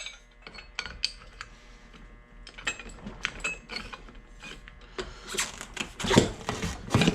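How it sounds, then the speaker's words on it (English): Metal clanks, ratcheting clicks and scraping as a bead breaker is pinned and forced down on the tire bead of a Graco LineDriver striping machine, irregular close knocks building louder toward the end. "Break this bead off."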